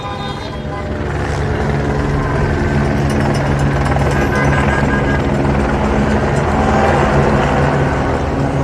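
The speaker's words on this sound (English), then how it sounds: "What is this helicopter I'm hearing? It's LAPD." An LAPD police helicopter flies over a Los Angeles street protest during a curfew, its rotor a loud, continuous throbbing roar that swells in after a moment and holds steady, with crowd and traffic noise beneath.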